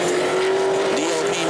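A pro late model race car runs on the New Smyrna track during qualifying, a loud steady engine drone with a sustained tonal whine holding pitch throughout, heard alone with no talk.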